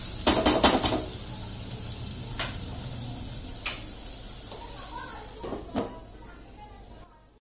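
A lid is set onto a cooking pan of tomato, onion, ginger and garlic frying in oil, giving a few quick metallic clanks up front, then fainter clinks and taps against low kitchen background.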